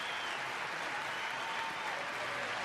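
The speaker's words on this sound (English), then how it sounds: "so a nice salute from Pat Simmons, skip of Team Canada, to this very supportive crowd, very happy crowd" A supportive crowd applauds steadily at a men's world curling championship game between Canada and China, sounding faint and distant throughout.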